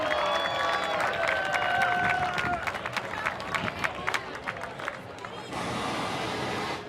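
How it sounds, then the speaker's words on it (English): Crowd claps and cheers for a young fighter named Team Money at a live Key West fight event, a busy mix of clapping and voices that thins out before a steady crowd murmur returns. "Round of applause"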